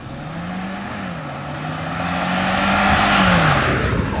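A Volvo XC90 plug-in hybrid SUV on the move, its steady engine drone and road noise rising gradually as it gains speed, heard from inside the cabin with no talk.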